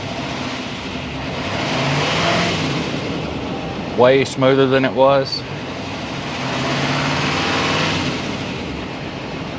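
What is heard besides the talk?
engine revving while vehicle sits on jack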